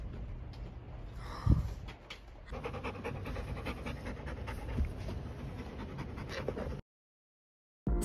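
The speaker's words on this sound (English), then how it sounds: "barking in the back." A dog pants steadily and close by, with a few soft whimpers, while thunder rumbles in the background; no clear barks come through, and the sound cuts out briefly near the end.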